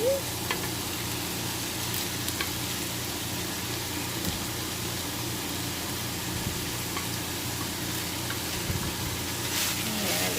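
Vegetables go back into a pan with cooked ground pork and sizzle steadily, a continuous broadband hiss with faint scraping and clinks throughout.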